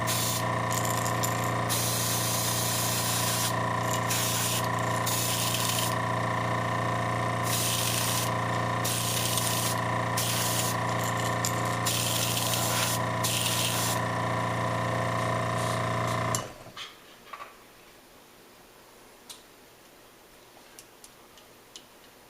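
Airbrush spraying paint onto a custom jerkbait fishing lure, a steady hiss with a constant compressor drone, cut by short on-off trigger pulses, then stopping abruptly to near silence with faint clicks.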